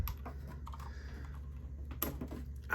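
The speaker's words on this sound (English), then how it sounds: "I'm gonna unplug my keyboard real quick." Computer keyboard handled near a new Samsung Odyssey Neo G8 monitor setup, with a few soft clicks and plastic knocks, one sharper clatter near the end, over low steady room hum.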